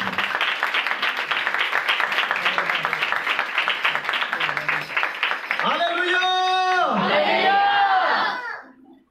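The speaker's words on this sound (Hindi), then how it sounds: "आए खुदाम के जलाल के लिए जोरदार तालियां" Loud, dense applause from a church congregation, then rising whoops and cheering voices that swell into sustained shouting before fading at the end.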